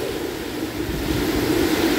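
Strong wind from Super Typhoon Uwan sweeping across a mountaintop, a steady loud roaring rush that swells slightly toward the end, heard alone without voices.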